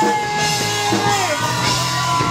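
At a live concert, a crowd screams, yells and whoops continuously, loud and sustained across the whole moment with no clear single voice.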